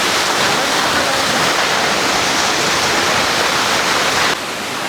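A waterfall roars loud and close, a dense, unbroken rush of falling water that fills the whole stretch and eases slightly just at the end.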